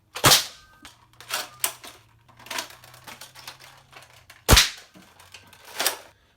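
A homemade pump-action Nerf sniper blaster is primed and handled, giving sharp plastic clacks and snaps, with two loud, abrupt cracks standing out among softer clicks and rattles.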